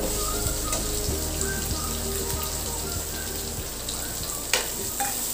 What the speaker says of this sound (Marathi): कांदा चांगला गोल्डन कलर येईपर्यंत भाजून घेऊया